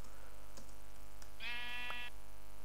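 Sheep bleating in the Minecraft video game, a single wavering bleat of about half a second over a quiet background.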